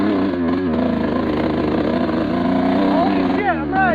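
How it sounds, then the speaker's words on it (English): A Suzuki RM125 two-stroke dirt bike runs rough while being ridden, its buzzing engine droning steadily with uneven revs and a couple of rising blips toward the end. "I ride it all the way home like that, running like crap."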